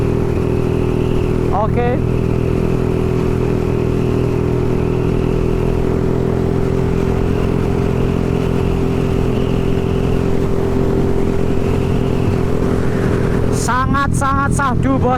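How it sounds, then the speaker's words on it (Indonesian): A Honda CB motorcycle rides along a road with a steady, droning engine hum and rushing wind noise. Someone speaks briefly near the start and again near the end. "Kita coba tarik motornya bos."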